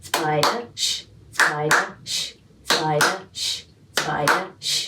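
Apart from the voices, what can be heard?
rhythmic hand clapping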